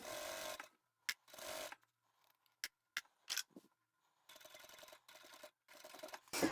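A sewing machine stitches the seam of a fabric zippered pouch with a quarter-inch seam allowance, running in several short, close bursts with brief pauses between runs.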